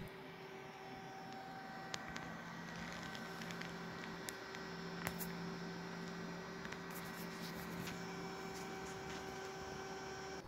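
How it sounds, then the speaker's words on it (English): A Noctua slim 92mm CPU cooler fan spins at full RPM beneath a slim 120mm fan in a PC, giving a steady, close, continuous whir with a faint tonal hum and no speech. "that 92 slim fan is at full RPM and as you can tell it is quite noticeable"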